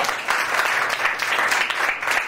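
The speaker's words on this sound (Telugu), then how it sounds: "కొట్టు చప్పట్లు గట్టిగా" Loud, sustained clapping from a church congregation, dense and fairly steady with small surges across the whole stretch, no voices over it.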